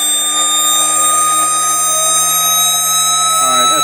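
Porsche 924S converted to electric drive, its motor spun up to high RPM, producing a loud, steady high-pitched whine with layered tonal harmonics that holds constant before shifting pitch at the very end.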